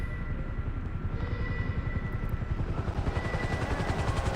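A helicopter in GTA 5 Online thrums with a rapid, rhythmic rotor chop that grows stronger and more pulsing over the seconds, with no talking.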